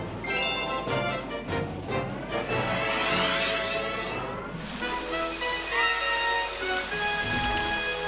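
Rain in the Nintendo game Super Mario Galaxy's Autumn Forest Galaxy, a steady patter mixed with the game's music and chiming effects, continuous throughout.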